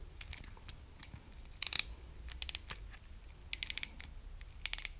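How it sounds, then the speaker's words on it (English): Metallic drag of an EF500 fishing reel with a metal spool, clicking in short quick bursts of sharp ticks separated by brief pauses, close and fairly quiet with no voices. "The drag on this one sounds metallic."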